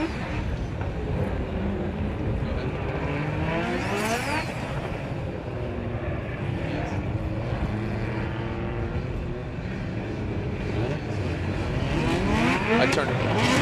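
A Formula Drift car driven by Vaughn Gittin Jr. revs through a drift, engine notes sweeping up and down repeatedly over a steady roar, moderately distant, with a voice talking over it.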